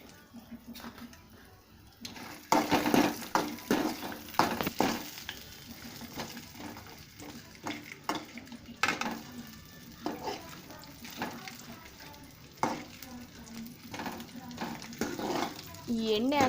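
Vegetables sizzling in a spoonful of oil for a veg kurma while being stirred, with bursts of scraping and clatter over a quiet sizzle and a voice talking throughout.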